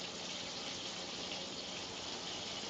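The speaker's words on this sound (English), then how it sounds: "you add cold water to this and mix it up" Cold water runs from a kitchen tap in a steady, even gush, a close hissing stream with no talking over it.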